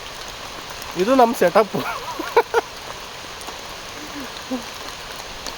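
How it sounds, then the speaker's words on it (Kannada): Steady soft monsoon rain patters in the background, heard from an auto rickshaw, while a person speaks briefly over it. "ಮಳೆ ಬರ್ತಾ ಇದೆ ನೋಡ್ರಿ"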